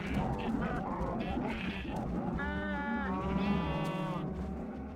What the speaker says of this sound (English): Where the heck did the baby cow even go?